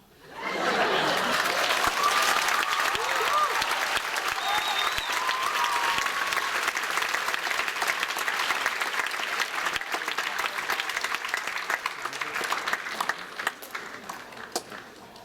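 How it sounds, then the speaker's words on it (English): An audience at a school writers' week event bursts into sustained applause, a dense, fairly close roar of clapping with a few scattered cheers that holds for over ten seconds before easing slightly toward the end. "give him one more round of applause."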